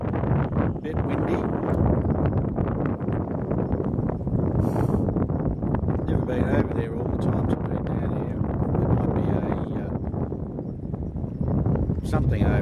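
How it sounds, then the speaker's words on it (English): Wind blows outdoors near the Lakes Entrance footbridge by Ninety Mile Beach, a steady loud rush and buffeting on the microphone throughout, with a person talking over it. "Bit windy."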